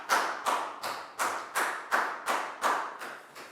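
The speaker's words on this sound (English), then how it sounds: "High five and a big round of applause for Dawn" Classroom claps in a Year 4 health lesson, eight sharp, evenly spaced group claps in a steady rhythm, fairly close and loud, with no talking.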